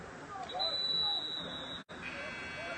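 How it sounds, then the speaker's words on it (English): An electronic game buzzer sounds one sustained, steady tone at a youth tackle football game to end the third quarter, heard over a murmuring crowd and nearby voices. "Buzzer sounds at the end of the third quarter"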